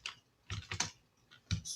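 A username is typed on a computer keyboard as a few quiet, close clicking keystrokes in small irregular clusters with short pauses between them.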